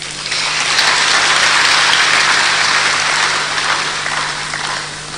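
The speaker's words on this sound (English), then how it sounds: "We need to applaud this man." A crowd applauds steadily for several seconds, loud and sustained, then gradually tapers off.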